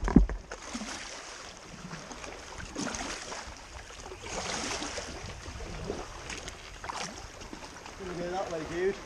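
A sea kayak paddling backwards through the water at Pilots Cove on Llanddwyn Island, with soft irregular splashes and swirling water alongside, plus wind and occasional nearby voices.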